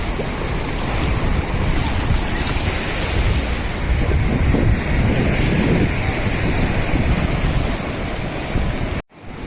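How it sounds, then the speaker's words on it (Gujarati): Ocean waves break at Varkala beach in Kerala, a loud, steady roar of surf mixed with heavy wind buffeting on the microphone, with no voices, until the sound cuts off abruptly near the end. "પાણી બહુ આવી રહ્યું છે,"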